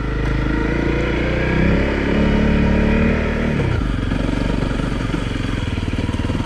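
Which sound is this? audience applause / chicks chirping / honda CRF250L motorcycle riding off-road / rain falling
honda CRF250L motorcycle riding off-road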